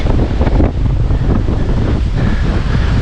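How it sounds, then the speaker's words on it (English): Strong gusty wind rumbles loudly against the microphone outdoors at the St. Augustine Lighthouse, a steady blustery roar with no voices. "It's windy as heck."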